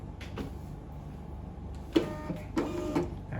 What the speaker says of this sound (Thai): ตัวนี้จะสั่ง พิมพ์ได้ทีละหนึ่งดวงนะครับเราก็กดพิมพ์